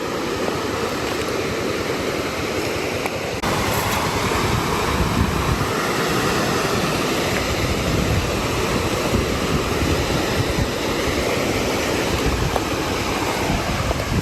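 A waterfall roars as a broad, constant wash of rushing water, loud and steady throughout with some wind buffeting the microphone, and no one speaking.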